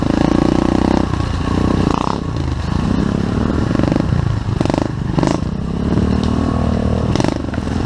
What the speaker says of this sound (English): Pit bikes are fun.